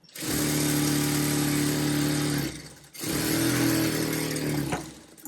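A sewing machine stitches a silk saree blouse laid over lining in two loud, steady motor runs separated by a short pause, close by and alone.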